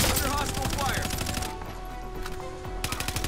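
Hostile gunfire in a video game: rapid automatic bursts crackle loudly, ease off briefly midway, then resume with quick repeated shots near the end.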